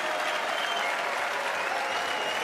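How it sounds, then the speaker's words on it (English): Spectators at the Red Bull Wololo: Londinium esports final for Age of Empires applaud and cheer in a continuous, even roar of clapping that fills the hall. "Lierey's probably happy with the applause, folks"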